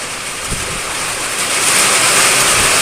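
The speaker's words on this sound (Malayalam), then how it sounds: "അപ്പോഴത്തേക്കും ഭയങ്കര കാറ്റും മഴയും ഉണ്ടോ." Strong wind and rain roar steadily, with rushing, broadband noise like surf, growing slightly louder toward the end.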